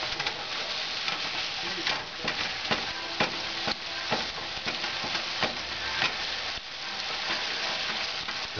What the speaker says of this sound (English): When you're browning meat, really the only rule is you just want it chopped up into little pieces